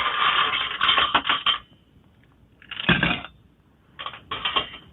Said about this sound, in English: Couple scoops of ice.